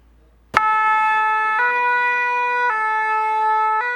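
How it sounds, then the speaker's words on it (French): Fire engine sirens start abruptly and hold a loud, steady multi-tone wail that shifts pitch every second or so, sounded by firefighters at a protest, continuing without talk. "Des sirènes pour faire entendre leur ras-le-bol"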